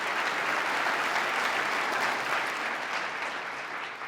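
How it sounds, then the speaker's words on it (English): An audience at a political address by the New York governor applauds loudly and continuously, a dense wash of clapping that fades slightly toward the end. "Let's give her a round of applause for the great job she's done."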